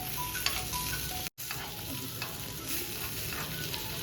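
Tarle fish coated in rava frying in a pan of hot oil, a steady close crackling sizzle with a brief clatter of stirring and a short break, no voices.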